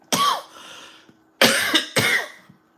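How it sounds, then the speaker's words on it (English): Three sharp coughs close to the microphone, one alone and then two in quick succession after a short pause. "I'm sorry you heard me cough before I said hello."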